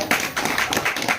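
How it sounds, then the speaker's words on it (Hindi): Applause at a spiritual talk, a brief burst of rhythmic clapping in loose pulses, moderately near and fairly soft. "जोरदार तालियां।"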